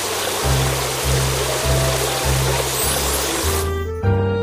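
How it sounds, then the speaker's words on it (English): Rushing water rinses foam off a school bus at a cartoon car wash in the Little Panda: School Bus game, a constant stream-like hiss lasting several seconds over a pulsing music loop before a chime ends it. "Now rinse off the foam."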